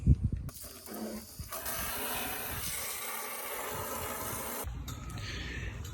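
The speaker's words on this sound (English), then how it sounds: "take your water hose and just spray it on in" A steady hiss of water from a hose spraying hard into a bucket for several seconds, starting after a few clunks and cutting off abruptly near the end.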